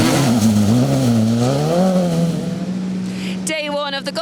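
Rally cars rev at the start of the Galway International Rally, an Irish Tarmac Championship round, with close, loud engine notes rising and falling, a deep harmonic drone and a sharp higher rev burst near the end.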